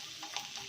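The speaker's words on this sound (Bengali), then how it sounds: "এইভাবে এই বাকি ডিমগুলো আমি ভেজে নিচ্ছি" Eggs frying in a pan make a brief, steady sizzle with a couple of soft scraping touches, close and fairly quiet.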